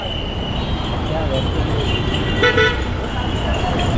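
Road traffic in a jam at a busy junction near Sangameshwar market, with a vehicle rolling past and a horn tooting loudly about halfway through over a constant engine rumble, while people talk nearby.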